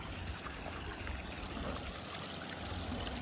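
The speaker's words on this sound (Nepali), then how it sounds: "पानी त यहीँ छ, फेरि यहीँ तलबाट पानी झरिरहेको छ।" Water trickles and streams steadily down from below along an outdoor path, a continuous close wash of gurgling flow with no talking.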